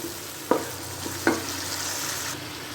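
Spice masala with yogurt, black pepper and green chilies frying in a pot for white chickpea pulao, a steady hiss with two sharp stirring scrapes, close and alone.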